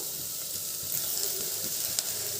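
Finely chopped onions and green chilli sizzle in a pan for rasam, a steady close frying hiss with light stirring and one sharp clink near the end.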